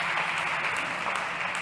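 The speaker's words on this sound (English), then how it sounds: "One more time, a big round of applause." Brief, even applause from a pitch-competition audience at South Summit 2022 for a startup CEO, a soft steady patter of clapping with no voices.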